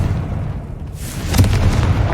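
A Confringo spell explosion in Hogwarts Legacy lands as a deep boom with a sharp burst, followed by a rumbling, crackling tail.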